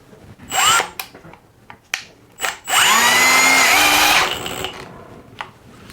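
A Milwaukee 2804-20 1/2-inch hammer drill/driver spins up in short bursts and then makes a longer whining run through wood, loud and close with pauses between the pulls of the trigger.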